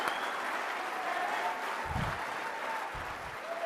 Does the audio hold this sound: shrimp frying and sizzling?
no